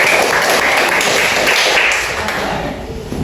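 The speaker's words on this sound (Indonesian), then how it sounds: "Tepuk tangan buat temannya." Classroom of students applauding their classmates after a group presentation, a dense, steady wash of many hands clapping close by, fading slightly toward the end.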